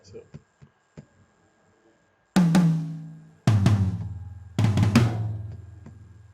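Drum sounds from the Super Quartet plugin in an Afrobeats production: after a few faint clicks, three heavy hits land in sequence, each with a booming low sustain, loud and alone without voices.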